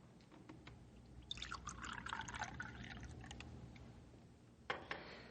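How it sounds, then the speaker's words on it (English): Coffee is poured into a cup in a radio drama scene, a faint liquid stream that rises in pitch as the cup fills over a couple of seconds, followed by a light clink near the end. "I pour you one more cup of coffee, Rick."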